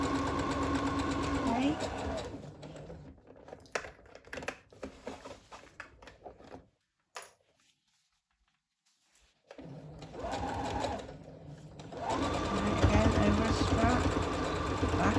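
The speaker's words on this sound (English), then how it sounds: "Reinforce it by going backwards over it, coming back, and carrying on sewing along the top of our bag." A sewing machine stitches a tote bag seam forward, runs back over it to reinforce, then carries on, its rapid motor whir coming in close bursts with a silent pause midway while a voice talks over it.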